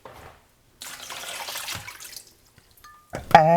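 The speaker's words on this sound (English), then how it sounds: "Add 3 cups water." Water pours over soursop fruit in a bowl, a splashing, trickling stream in two bursts separated by a pause, followed by a short ringing tone.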